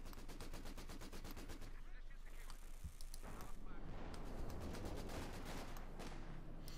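A machine gun fires rapid, repeated bursts in the World War II strategy game Company of Heroes 2, the rattling volleys strongest early and then thinning into scattered battle noise, with possible commentary underneath.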